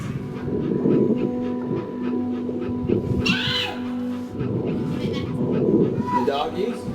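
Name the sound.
therapy dog panting, from video game That Dragon, Cancer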